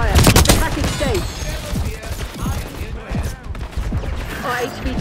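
Rapid gunfire bursts from the Black Ops 6 beta multiplayer, loud and dense with overlapping shots and impacts, while voices come and go over the firefight.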